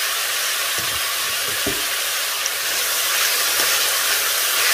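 Frozen bell pepper, cut into large pieces, sizzles in a hot pan with a steady, bright hiss that stays loud and even, broken by a few soft clunks.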